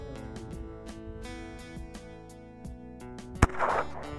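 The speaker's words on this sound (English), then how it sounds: "First time shooting the old buck mark and whacked him a rabbit." Browning Buck Mark pistol fired once at a rabbit during a long-range hunt, a single sharp crack standing out in the middle of steady background music, with a brief rustle just after.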